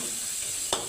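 Food fries in a pan with seasoning of salt and turmeric, giving a steady close sizzle throughout and one brief stirring scrape near the end.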